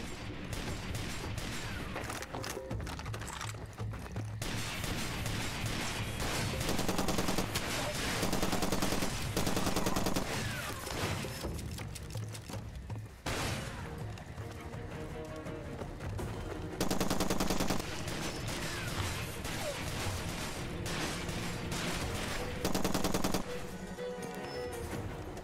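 Machine gun fire in Far Cry 2 rattles in long sustained bursts, loud and near, punctuated by heavier single shots and short pauses over nearly half a minute.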